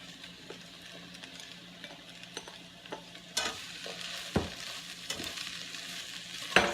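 Kale and onions fry in a skillet with a soft, steady sizzle while a utensil stirs through them, bringing scraping knocks and louder clatters that grow busier toward the end.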